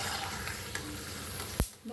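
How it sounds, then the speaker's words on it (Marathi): Peanuts crackle and fry in hot oil for chivda, a continuous close sizzling hiss with a brief utensil knock near the end. "तर ह्याला बी आपण छान तळून घेऊया।"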